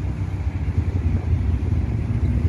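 A Yamaha Vixion Advance motorcycle fitted with an Akrapovic exhaust idles, producing a steady, close, low rumbling burble with no talk over it.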